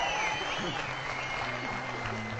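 Studio audience applause on a Turkish comedy talk show, a steady wash of clapping at moderate distance with voices audible underneath.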